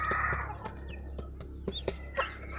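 A Black Astro hen with a few newly hatched chicks clucks softly nearby while the chicks give thin high peeps, in brief scattered calls over a low steady background hum.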